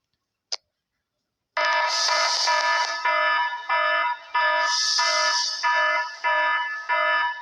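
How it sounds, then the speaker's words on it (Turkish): After a sharp click, a loud electronic alarm starts ringing in rapid repeated pulses, continuing steadily without pause. "Alarm sesleri ötüyor."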